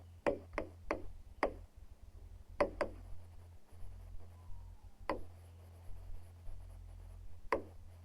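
A teacher writes on a classroom board with chalk, making sharp separate taps and short scratchy strokes in irregular bursts with pauses between, close and fairly clear, no talk.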